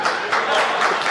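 A crowd claps steadily at a Hindi comedy poetry gathering, a loud, dense wash of applause with small swells across about a second.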